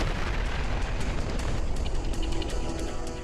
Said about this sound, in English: another huge explosion